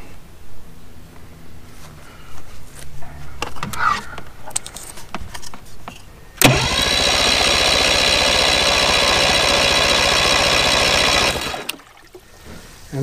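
Outboard motor on a boat, running in forward gear and opened to wide open throttle: after some uneven rumbling and clatter, a steady, loud, high-pitched roar holds for about five seconds and then cuts off abruptly.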